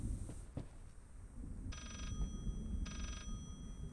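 A telephone in the horror game Layers of Fear gives two trilling electronic ring bursts about a second apart, fairly faint against a low rumbling ambient background.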